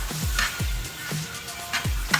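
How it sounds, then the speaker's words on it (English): Food sizzles steadily in a hot pan, with a few stirring scrapes, close up and continuous, no voices. "You have this pan just sizzling hot"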